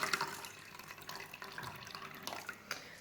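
Water trickling and splashing from a tap over sushi rice being rinsed in a bowl, faint and close with small drips and swishes, no talk.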